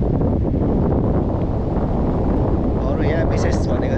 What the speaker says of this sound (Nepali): यहाँ चाहिँ हावा मिठो सरर हावा चल्दो रहेछ अब।